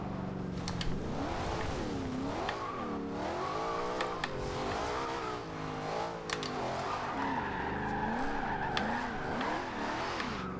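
A 2013 Ford Shelby GT500 in Forza Horizon 2 roars through gear changes, its engine note rising and falling in sweeping revs while tires squeal and skid almost continuously, loud and unbroken throughout.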